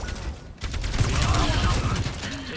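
Rapid video game gunfire in a dense, noisy burst of shots during a multiplayer match, loud and continuous with mixed game effects.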